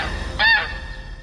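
A goose honks once, loud and close, in a short burst at the middle of a news jingle, with a steady background hum around it.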